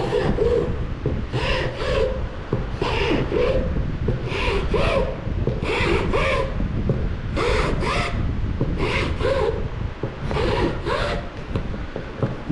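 Steady back-and-forth rasping of a file on a wooden wand being carved, rhythmic scraping strokes in quick bursts, close up and moderately loud.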